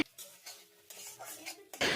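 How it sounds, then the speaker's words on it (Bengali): Scrambled egg for egg chowmein cooks in a wok with quick metallic scrapes and taps of a spatula, short bursts of stirring and a faint sizzle, ending in a louder scrape. "তো চলো এবার ডিমটাকে আমরা ঝুরো ঝুরো করে ভেজে নিই।"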